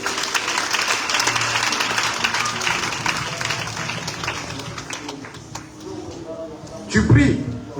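A church congregation at a Sunday service breaks into sustained applause and clapping, dense and moderately loud at first, then thinning, with a louder burst near the end; talk mixes in throughout.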